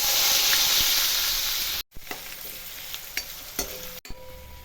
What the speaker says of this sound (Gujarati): કટિંગ કરેલી ડુંગળી એડ કરીશું